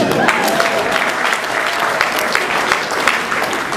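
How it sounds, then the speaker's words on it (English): Guests at a wedding reception give loud, dense, continuous applause, close and steady throughout. "So give yourselves a round of applause."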